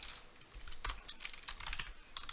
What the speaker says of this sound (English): I don't know why I keep typing that